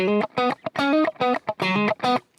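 Hard-picked, distorted electric guitar, not palm muted, rings out in a series of open, sustained chords with short gaps between them, loud and close.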